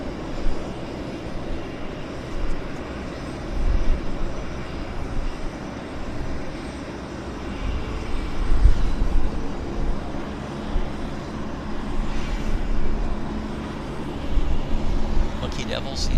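An Avro RJ airliner at Vancouver Airport, its engines giving a loud, sustained roar that swells and eases over the whole stretch, heard from nearby on the apron.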